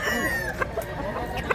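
A yellow-legged rooster at a gamefowl sellers' gathering gives short clucks and a brief crow-like call, close by, over light background noise.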